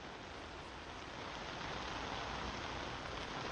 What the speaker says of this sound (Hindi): खुला आकाश है और उस पर बारिश और ओलों की बरसात